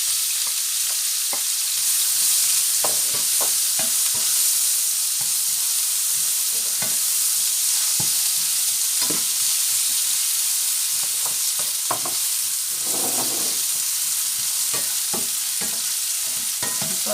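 Onions fry in a small amount of oil for a bitoyo dish with oyster mushrooms, making a steady close sizzling hiss with scattered crackles and the scrape of stirring. No one speaks.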